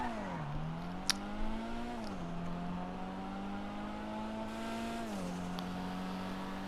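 Weeny Issey Rally car engine in GTA 5 Online, a loud, buzzy rev that climbs steadily, drops sharply at each gear change, then climbs again, repeated through several shifts with no one talking.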